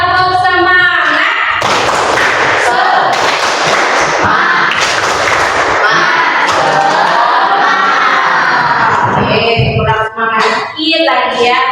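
A classroom group performs a rhythmic clapping chant as an ice breaker, loud claps and shouted voices together in a lively burst, with children's and adult voices calling out between the beats.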